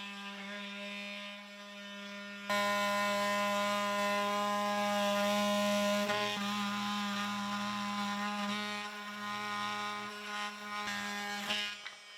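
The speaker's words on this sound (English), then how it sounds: "I love this little oscillating saw." A small oscillating saw cuts during pole barn interior wall work, a steady buzzing whine with strong tonal harmonics that starts abruptly and runs continuously close by, wavering slightly as the blade works.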